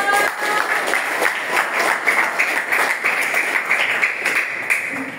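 A class of trainees applauding together in a training session, loud sustained clapping from many hands close by, filling the whole stretch without talk.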